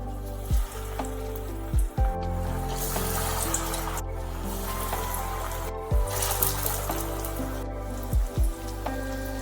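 Vegetable pakoras frying in hot oil, a constant bubbling sizzle close by, broken by several sharp clinks and thuds of utensils against the pan, with no speech.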